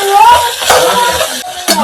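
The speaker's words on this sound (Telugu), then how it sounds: "మొత్తం కలబెట్టుకుంటున్నా." Ginger-garlic-chilli paste being stirred into sizzling vegetable pulav in a pan, a close, steady frying hiss with scraping spoon strokes and a couple of sharper clinks near the end.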